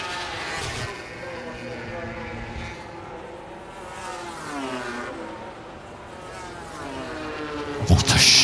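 MotoGP motorcycle powering through a fast turn at the 2026 Dutch GP in fifth gear at over 200 km/h, a high whining engine note sweeping past under commentary, with crowd and wind noise throughout.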